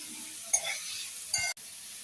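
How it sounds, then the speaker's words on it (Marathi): Tomatoes frying in a pan on an Indian home stove, with two quick stirring scrapes over a steady close sizzle before it cuts off abruptly. "आता हे टमाटर छान परतला ना,"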